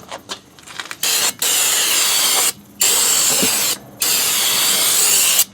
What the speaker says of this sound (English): So I'm just going to use this non-chlorinated brake cleaner and give them a good blasting.